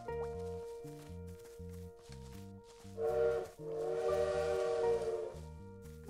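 A bird in the video game Little Witch in the Woods imitating a train whistle, a loud sustained steam-whistle-like tone over bouncy game music, heard alone without talk.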